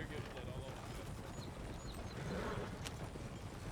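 Wild horses' hooves clip-clop steadily in Red Dead Redemption, faint and continuous beneath people talking.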